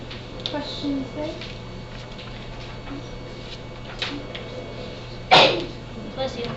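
A single sharp sneeze bursts out amid quiet classroom murmur and faint background voices, loud and close compared to the rest.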